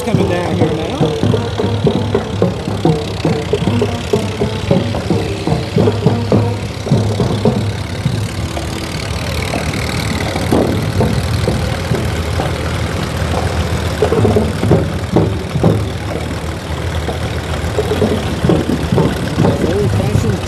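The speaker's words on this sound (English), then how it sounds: "Old-fashioned John Deere tractors. It's amazing that some of these still run after all these years." Old John Deere tractor engines chug and idle nearby at a county fair parade, a low rumbling putter running throughout, with people talking over the engine noise.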